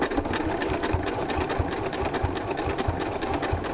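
A sewing machine stitches bias binding onto a quilt with a steady, fast mechanical whir and rapid needle chatter, close and continuous with no talk.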